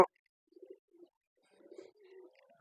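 Pigeons kept at home coo in short, soft, low phrases, first as a couple of isolated calls and then a longer run of burbling coos, close by in an otherwise quiet space.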